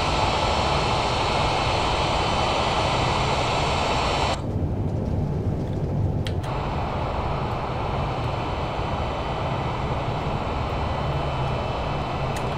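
Simulated Boeing 787 Dreamliner engines in reverse thrust after touchdown in Flight Simulator 2020 give a loud, steady broadband roar. A brief change in tone partway through is followed by the continuing roar, with no talking.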